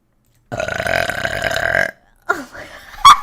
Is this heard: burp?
yes